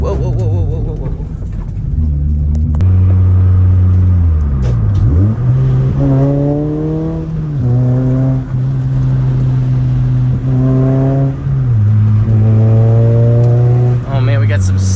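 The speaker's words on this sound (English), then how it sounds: "we got some sweet intake sounds" A Toyota Celica GT-S with an aftermarket intake accelerates hard from inside the cabin, engine note rising loudly through several gears with drops at each shift and intake whoosh; a voice talks over it.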